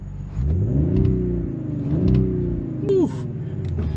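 A 2025 Audi RS 5 Sportback engine revs up and settles in rising and falling surges, with exhaust roar heard through an open window and a brief sharp chirp near the end.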